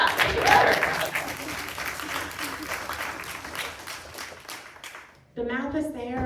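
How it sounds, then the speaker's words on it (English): An audience at a political talk bursts into applause, dense clapping at moderate volume that fades out after about five seconds, then a voice begins speaking. "I saw some applause, let's get that"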